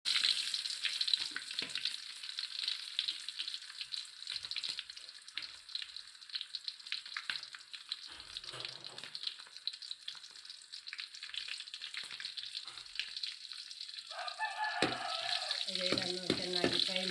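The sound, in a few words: frying mustard seeds, onion and red chili in oil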